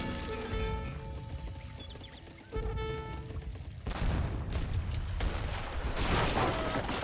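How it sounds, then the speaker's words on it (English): Cannon fire in the strategy game Age of Empires 3, with booming shots and crackling fusillades that grow louder from the middle onward over a busy battle backdrop. "Cannon firing, gets a great shot there."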